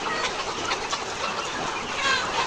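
Layer hens on a poultry farm in Dimla, Nilphamari, cluck in a dense, continuous flock chatter, with no voices over it.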